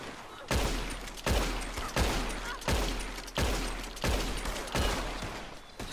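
Semi-automatic pistol fire in Red Dead Redemption 2, a steady series of about seven evenly spaced, sharp shots each trailing into a short echoing decay, with no speech over them.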